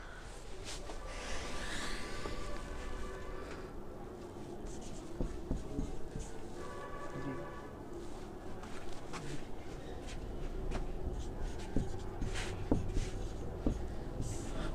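A pen scratching steadily across paper as an application letter is handwritten, close and continuous in short strokes with brief pauses, and no talking.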